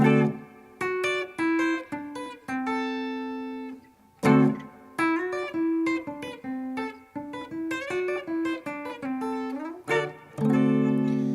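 An electric guitar picks a blues chord pattern, with plucked notes and chords moving in a steady, repeating rhythm, clear and close.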